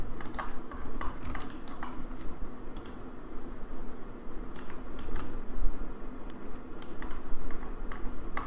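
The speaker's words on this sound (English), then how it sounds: "So press 0 on a keyboard, and now it should look fine." Keys are pressed on a computer keyboard, producing scattered light clicks and taps at moderate distance over a constant hiss of background noise.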